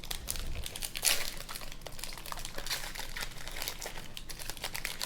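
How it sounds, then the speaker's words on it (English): A 2024-25 CHL hockey trading card pack being torn open: quiet, steady crinkling and tearing of the wrapper, with one slightly louder rip near the start. "Oh, that pack basically ripped itself open."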